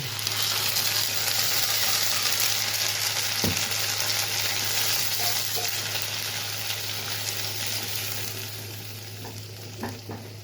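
Onion fries in a pan for a bottle gourd leaf paste, a continuous close sizzling hiss that fades slightly toward the end, with a couple of brief clinks.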